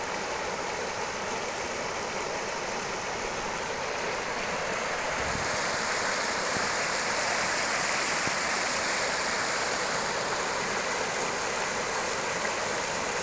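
A small waterfall pours steadily over rocks in a continuous rushing roar, close and loud, with no voices.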